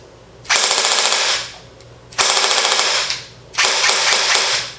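Airsoft gun firing full auto at a very high rate of fire, in three loud, close bursts of rapid buzzing shots, each lasting about a second, separated by short pauses.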